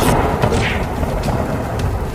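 A heavy thunder crack strikes a nearby tree, giving a loud, broad rumble that rolls on for a couple of seconds without any voices.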